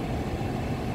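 A 2016 Ford Taurus with a check-engine fault and a rising idle runs steadily, a continuous close engine rumble with no talk.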